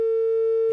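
A telephone busy tone sounds after a call drops during a live phone-in broadcast, one steady, unbroken pure tone that stops abruptly near the end.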